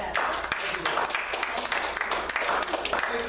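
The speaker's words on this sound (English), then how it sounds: "Hand clap." Congregation clapping their hands during a church sermon, a dense patter of claps spread through the room, mixed with voices calling out over the rhythm.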